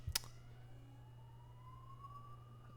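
An ambulance siren passes somewhere near a house, a thin, fairly faint tone that climbs slowly and steadily over a constant low hum, with no voices.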